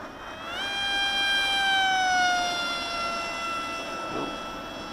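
A fast delta flying-wing model aircraft with a 2500 kV electric motor makes a flyby. Its high motor whine rises and sweeps downward in pitch, loud at the middle of the pass and fading as it moves off, with no talking.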